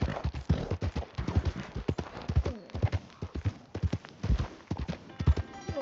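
Horse hooves clip-clop steadily in Red Dead Redemption 2, with a whinny in the mix and game speech heard over the hoofbeats throughout.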